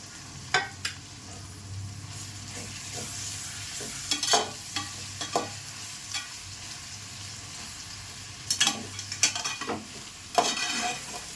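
Tomatoes frying in a pan for pepper chicken gravy, a low steady sizzle broken by sharp clinks and scrapes of a spoon stirring against the pan at irregular moments.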